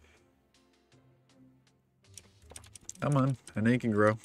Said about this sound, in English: I have a very loud keyboard at the moment